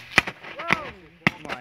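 Fireworks going off outdoors, a few sharp bangs and crackles spaced out over a second and a half, with a whistling rise between them and people exclaiming over the noise.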